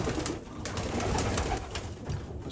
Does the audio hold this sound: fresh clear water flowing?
no